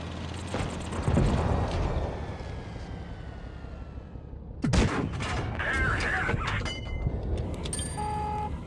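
Tank cannon fire in a tank battle video game aimed at a KV-1S: heavy booming shots over a constant engine rumble, one big blast midway followed by mechanical clanks and reload clatter, with no one talking.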